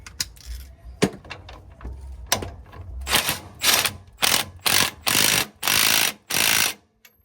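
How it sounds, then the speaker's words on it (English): A ratchet socket tightens a bolt on a Z1 shock skid, giving scattered sharp ratcheting clicks that build into longer, louder buzzing bursts of rapid clicking, close and clear with no talk. "grab my socket and just spin it on through"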